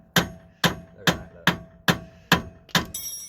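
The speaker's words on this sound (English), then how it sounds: "You've got a rubber mallet just in case, so tappy tappy." A rubber mallet taps at a Mk4 Golf R32's suspension during a lowering-spring fit, giving six evenly spaced, sharp, close knocks with short ringing decays, followed by a brief metallic clink at the end.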